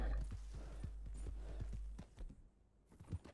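Horse hooves clip-clopping in the video game Red Dead Redemption 2, a quick rhythmic run of soft thuds over a low rumble, fading somewhat toward the end.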